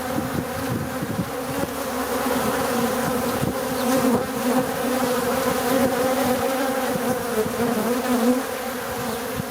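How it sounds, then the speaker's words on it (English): Drone bees swarm around a beehive with a dense, continuous buzzing drone, loud and close, and many wings hum together without a break. "If you know what those bees are that are going inside this hive, please let me know."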